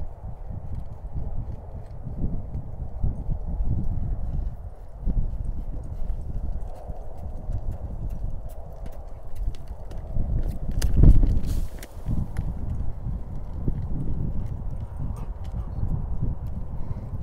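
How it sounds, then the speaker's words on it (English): A young horse lopes around a pen, its hoofbeats a steady, muffled drumming on soft ground heard from a middle distance, with a short louder knock partway through. "This will be the first time Henson asks him for a lope."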